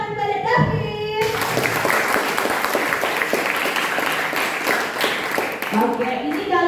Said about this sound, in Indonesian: Kita beri tepuk tangan kepada David.